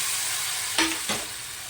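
Tomato with onion and garlic paste hitting hot oil with cumin seeds in a pan: a steady, close hiss of frying with two brief clatters near the middle.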